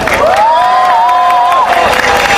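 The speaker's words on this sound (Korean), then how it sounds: "다시 한번 큰 함성, 박수 부탁드립니다" An outdoor crowd at a candlelight rally against the Korea–US FTA cheers and applauds after a singer's set, a dense roar of voices and clapping with a long, wavering whistle-like whoop rising above it.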